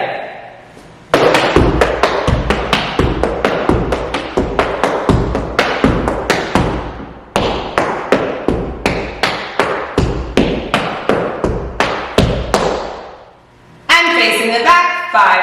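Tap dance steps in an advanced combination, with quick paradiddles and heel scuffs on a hard floor, sounding as rapid close-up clicks and thumps in rhythmic bursts, with a short pause before a final flurry.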